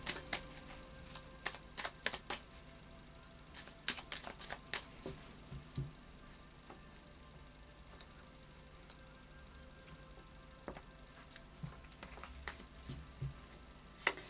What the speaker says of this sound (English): we'll just do a final shuffle now of the Tarot of Dreams